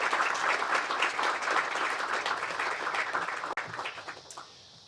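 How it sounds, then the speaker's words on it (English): Audience applause at a groundbreaking ceremony for a workforce development center, a steady dense clapping from a crowd that holds for several seconds and then thins and tapers off near the end. "giving those folks a round of applause for their support"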